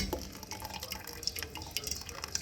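Liquid from a tin of ackee pours out in a soft, steady trickle with scattered drips and splashes, quiet and close, with no talking.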